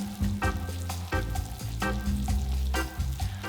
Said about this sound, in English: Just let this sort of gently simmer